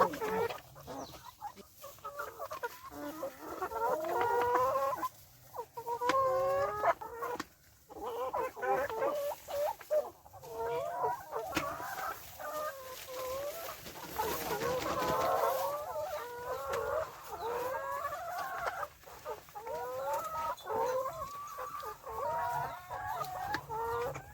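Sick chickens kept apart on a farm cluck and call repeatedly at close range in uneven bursts, with some voices and background noise mixed in.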